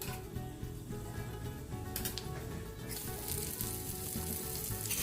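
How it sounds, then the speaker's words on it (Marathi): Chopped onion sautéing in oil with whole spices such as bay leaf for onion rice, a steady dense sizzle throughout with occasional stirring scrapes, close and moderately loud. "आणि हा कांदा मात्र आपल्याला अतिशय छान पद्धतीनं असा परतवून घ्यायचा आहे"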